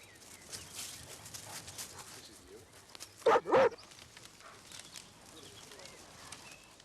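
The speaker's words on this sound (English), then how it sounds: "police dogs have been on the mountainside too, combing the woodland and gullies" A police dog barks a couple of quick times at mid distance on a wooded mountainside, a short burst over steady outdoor background noise and faint voices.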